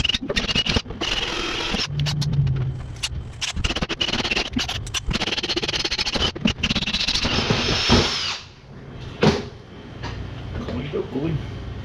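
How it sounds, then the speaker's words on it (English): A power drill runs in repeated bursts while working on a 1977 Pontiac Trans Am, whining and stopping as it bores holes, with clattering and scraping between runs and a quieter pause near the end. "let's go drill our holes"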